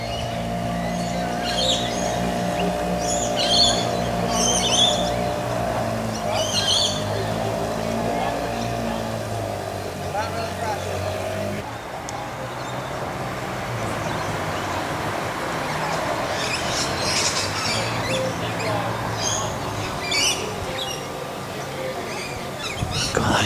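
Faint high chirps and squawks from a flock of lorikeets come and go over a steady low engine-like hum, with a person talking at times.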